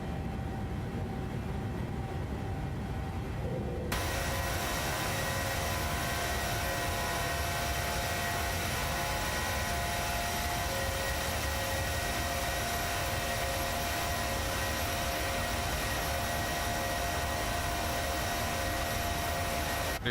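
A PMDG 737-800 airliner in Microsoft Flight Simulator climbing out after takeoff from Dalaman, its jet engines producing a loud, constant, dense roar that steps up sharply after a quieter opening few seconds and holds steady.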